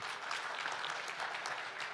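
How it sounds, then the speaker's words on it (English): A forum audience applauds the speakers after a keynote and panel session: a short burst of steady, moderately distant clapping with no break. "Round of applause to the speakers."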